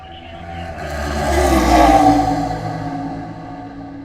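A slow-moving race car at Road America during the WeatherTech International Challenge passes by, its engine note rising to a peak mid-pass and then fading as it pulls away, heard alone from a moderate distance.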